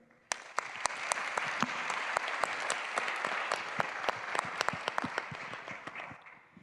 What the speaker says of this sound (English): let's all give a big round of applause to George Nikolaitakis and the GenAI Summit team